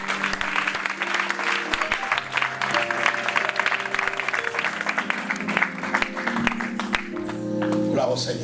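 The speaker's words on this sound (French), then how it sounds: "Alors acclamons-le." A church congregation claps and cheers in sustained applause that fills the room, with a voice speaking over it and music playing underneath.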